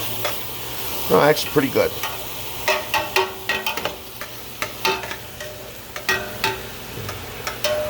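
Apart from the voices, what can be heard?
vegetables sautéing and being stirred in a pan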